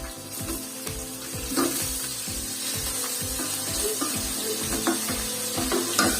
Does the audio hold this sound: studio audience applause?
no